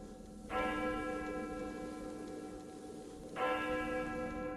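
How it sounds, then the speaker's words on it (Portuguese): Church bells ringing at night in a quiet town, two distant resonant strikes several seconds apart, each leaving a long humming decay over a faint background hiss. "Os sinos da igreja começaram a tocar"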